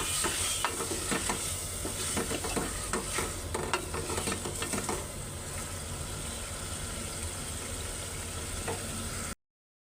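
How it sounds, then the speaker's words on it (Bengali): Small fish sauté in spiced oil, giving a dense, crackling sizzle. Frequent scraping stir strokes run through it and the sound stops abruptly near the end. "মাছগুলি আমি এর মধ্যে দিয়ে দিব কষানোর জন্য"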